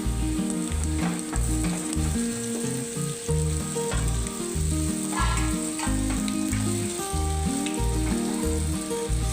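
Bottle gourd muthiya sizzle in a kadai of spice tempering with curry leaves, a steady bright hiss throughout, largely masked by loud rhythmic background music.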